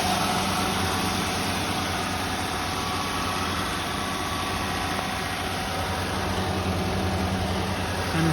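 A 2012 Honda Odyssey engine idles steadily up close, with an unidentified mechanical noise running continuously inside the engine bay alongside the hum and vibration.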